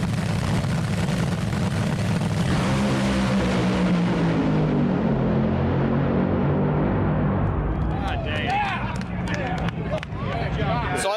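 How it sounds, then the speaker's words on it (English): NHRA nitro drag cars launching side by side, a deafening continuous roar that fills the whole clip and swells as they pull away, followed by crowd noise and cheering near the end. "I get to stand between 2 nitro cars as they launch"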